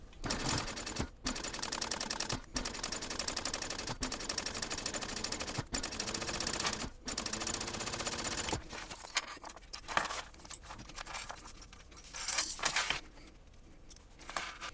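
A sewing machine top-stitches a handle onto a sewn onigiri backpack, running in fast, even mechanical bursts broken by short pauses, then slowing into scattered, fainter stitches toward the end.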